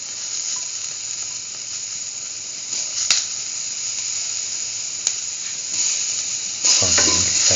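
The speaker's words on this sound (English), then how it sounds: "saute and mix thoroughly" Tomato and bell pepper instant noodles sautéing in a hot pan, a loud continuous sizzle and hiss with occasional spatula clicks and stirring that swells near the end.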